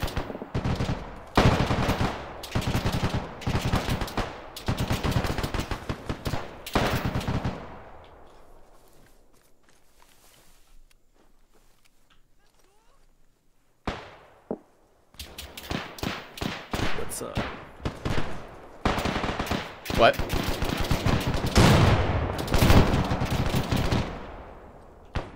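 Gunfire exchange in a World War II video game, with dense bursts of machine-gun and rifle fire, loud and close, then a lull of near silence before another sharp shot and renewed heavy firing.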